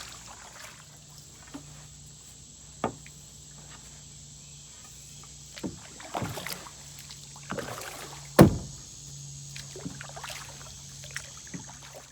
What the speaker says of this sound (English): When you reach the old canoe docks, you've roughly been paddling for a half an hour.